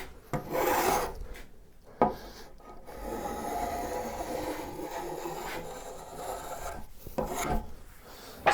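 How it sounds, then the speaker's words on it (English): Steady hand rasping or sanding of a wooden chamfer on a desk build in a shop, a continuous close scratchy rubbing with brief pauses and changes in stroke. "Smoothing chamfer."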